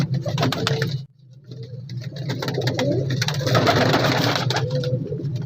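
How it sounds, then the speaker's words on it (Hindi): Blue pigeons coo repeatedly at a busy pigeon market, their soft throaty calls close and steady with a brief lull early on, while market bustle fills the background. "ये देखें नीला कबूतर है"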